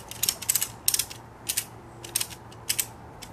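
A slackline ratchet is cranked by hand to tighten the webbing, giving bursts of rapid metallic clicking in an irregular rhythm, close and fairly loud over a faint background hum.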